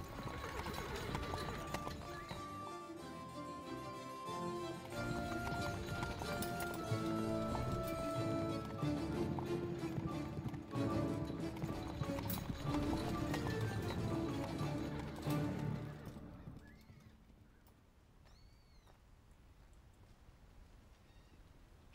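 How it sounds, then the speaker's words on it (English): Horses' hooves clip-clop steadily at a gallop for about fifteen seconds, loud and rhythmic with a busy mix behind them, then the hoofbeats cut off abruptly, leaving a quiet stretch with faint sounds. "The horses."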